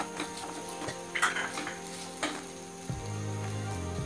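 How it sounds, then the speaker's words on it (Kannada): Capsicum pieces fry in hot oil with a continuous close sizzle, broken by occasional stirring clinks against the pot, and a low steady hum rises near the end; nobody speaks. "ಕ್ಯಾಪ್ಸಿಕಮ್ ಫ್ರೈ ಮಾಡಿಟ್ಕೋತೀನಿ, ಆಮೇಲೆ ಸೇರಿಸ್ತೀನಿ."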